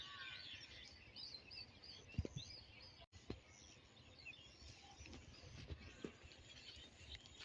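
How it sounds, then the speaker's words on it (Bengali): Birds chirp faintly in a village on a winter evening just before dusk, light fog settling; soft scattered tweets over quiet ambience with an occasional louder call, no talk. "পাখিদের কিচিরমিচির শোনা যায়"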